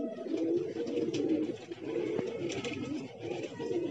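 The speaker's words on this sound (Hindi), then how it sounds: "अपनी रामपुरी कबूतरी है ये चपड़ी के साथ में।" Pigeons, among them a Rampuri pigeon, coo softly in low, repeated throaty calls close by, layered over faint outdoor background noise with no talking.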